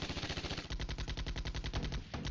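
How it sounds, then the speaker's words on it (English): Rapid, evenly spaced bursts of 106mm mortar fire from the tactical war game Flashpoint Campaigns: Red Storm, a dense, loud, continuous barrage of sharp thumps with no pauses. "Got them with 106mm mortars."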